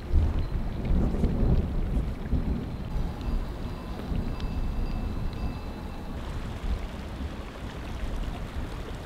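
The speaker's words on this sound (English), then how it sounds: "it's starting to thunder, and Adi is really chilled about it" Thunder rumbles through a mountain storm near Periche in Nepal, a continuous deep roll with rain noise layered over it, steady and loud for the whole stretch without any talking.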